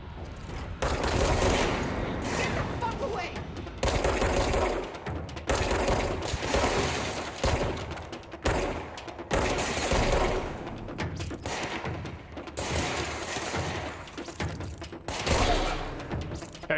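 Sustained bursts of gunfire in the video game Control, dense rapid shots with heavy thuds repeating in waves across the whole stretch, loud and close with brief gaps between volleys.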